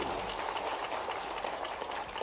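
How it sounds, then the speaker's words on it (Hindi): Crowd at an outdoor Sant Ravidas Jayanti rally in Bhopal clapping steadily, a dense continuous wash of applause at moderate level with no pauses. "जोरदार ताली बजाओ माननीय मोदी जी के लिए"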